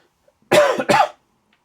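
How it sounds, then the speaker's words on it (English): A person coughs twice in quick succession, close and loud, with the second cough slightly shorter, in an otherwise quiet room. "Still got a bit of a cough."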